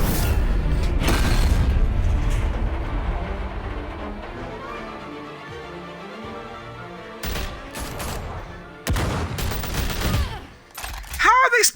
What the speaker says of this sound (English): How are they still shooting in the background?